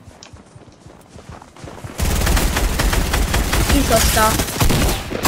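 Shotgun fire and other gunfire in the video game Fortnite, a dense loud burst of shots starting abruptly partway through, with brief talk underneath.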